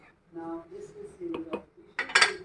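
Rice with coriander and mint being stirred in a pot: scattered metallic scrapes and clinks of a spoon against the pot, ending in a louder clattering knock, faint and mixed with a soft voice.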